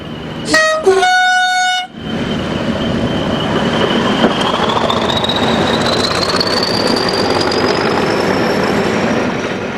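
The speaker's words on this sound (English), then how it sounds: "A still green 4101 heads past Beale on empty coal wagons heading to Newcastle" A British Rail Class 40 diesel locomotive hauling empty coal wagons past Beale sounds a loud two-tone horn blast, then rumbles past with a steady engine drone and a rising whine as the wagons roll by close up.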